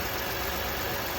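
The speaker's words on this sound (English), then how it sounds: "Sounds like it's idling pretty normal." A car engine idles steadily and evenly during a PCV and EGR system check, a continuous close rumble with no talk over it.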